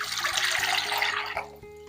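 Water poured from close by into a pot to make the syrup for babà, a steady splashing stream that thins and stops near the end, with a faint tonal hum underneath.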